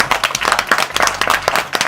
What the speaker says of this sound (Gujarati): વધાવો તાળીઓ